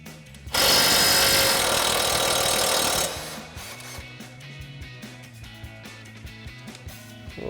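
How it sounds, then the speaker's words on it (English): An impact wrench with an 18 mm socket spins a sway bar end link nut off a lower control arm during a 4-inch lift install on a Sierra 1500, a loud rattling burst for about two and a half seconds, followed by quieter clinking and shop noise. "we're gonna pop the nut off that's holding it to the lower control arm using an 18 mil socket on our impact"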